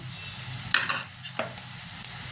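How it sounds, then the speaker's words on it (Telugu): Onions frying and being stirred in a pan for a home-style chicken curry, with soft sizzling under a few short scraping stir strokes, close by and moderately quiet, no talking. "ఉల్లిపాయలు అయితే వేగినాయి."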